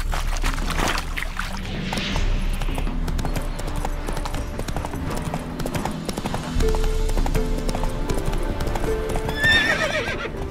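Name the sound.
horse hooves in video game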